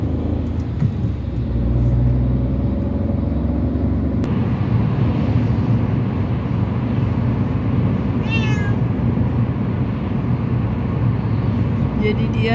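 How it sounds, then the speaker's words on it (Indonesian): A cat at home in Denmark meows a few times, a short high cry heard once clearly and then faintly, over a steady rumble of traffic or engine noise. "Jadi dia sepanjang hari ngeong-ngeong gitu teman-teman."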